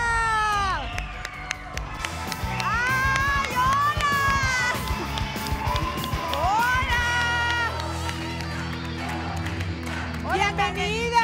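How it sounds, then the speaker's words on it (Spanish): A studio audience on the Mexican dating show Enamorándonos cheers, shouts and screams loudly to welcome a female guest, a continuous roar of voices with whoops, and a host's voice rising over the crowd. "Gracias y cuántos bonitos gritos"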